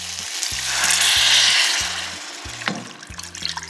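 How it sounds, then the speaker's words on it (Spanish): Water pours into a sizzling pan of chicken being cooked for peanut chicken; a rushing splash swells and fades over the frying hiss, with low rhythmic music underneath. "Ahora vamos a ponerle el agua."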